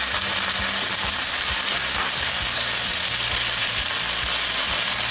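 Ginger garlic paste fries with browned onions in hot oil, making a loud, dense, continuous sizzle and hiss with faint stirring scrapes underneath, and no voices.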